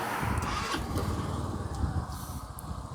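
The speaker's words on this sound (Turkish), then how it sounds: "Şimdi motorumuzu çalıştıracağız." An Arora Safari motorcycle engine turns over and catches, settling into a close, throbbing low chug for a few seconds.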